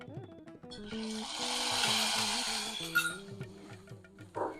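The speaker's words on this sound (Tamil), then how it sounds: "இந்த பக்கம் நெய் விட்டு முந்திரி பருப்பை வறுத்து எடுத்துக்கலாம்." Cashews frying in ghee in a pan, a soft steady sizzle with faint stirring clinks, close and continuous, heard under background music.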